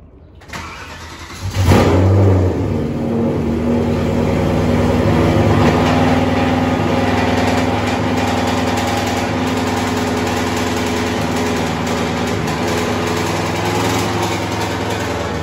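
A car engine cranks and catches, then revs and settles into a steady, loud idle that runs on for a long stretch, close by.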